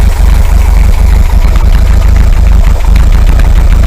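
A VW 2-litre air-cooled engine idles at 800 RPM, a loud, close, steady low thrum with rapid even pulsing and no voices.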